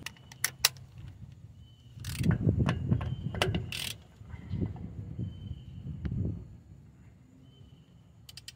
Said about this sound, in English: I'm gonna be using a regular ratchet